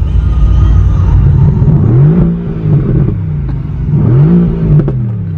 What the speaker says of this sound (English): let's see if I can give us a rev